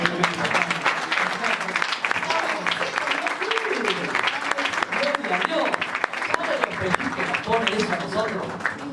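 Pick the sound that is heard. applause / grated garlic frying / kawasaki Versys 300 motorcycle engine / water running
applause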